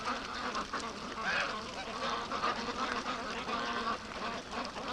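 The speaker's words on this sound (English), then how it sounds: "The ducks are coming home." Free-range ducks on a lake quacking in a busy overlapping chorus, moderately close, while soft speech-like sounds mix in beneath.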